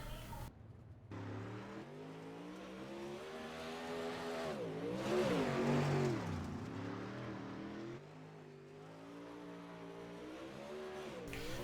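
Super Late Model race cars in the iRacing video game at Fairbury, a World of Thunder event, engines droning steadily and revving up and down in pitch through the middle, loud and continuous.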